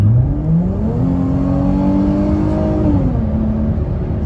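A 2018 Dodge Charger V6 engine revs up loudly and close by, its pitch climbing steadily as it accelerates, then holding high before easing off.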